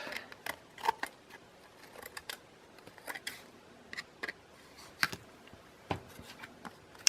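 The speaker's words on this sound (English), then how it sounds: "I'm just going to trim this down a little bit." Scissors snip through a strip of lace, a scattered series of quiet, sharp clicks and cuts spread irregularly across the stretch, close and faint with no talking.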